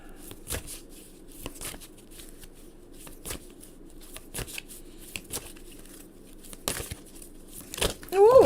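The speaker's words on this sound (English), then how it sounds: "the cards are just so big, so it makes it harder to shuffle" Large tarot cards being shuffled in several short riffling bursts with pauses between, close by and fairly quiet, ending in a louder rustle.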